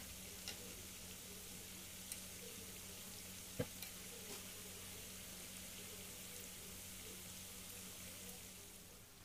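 Chebakia pastries frying in hot oil, a soft steady sizzle with faint crackles and one sharp pop, heard alone and fairly quiet.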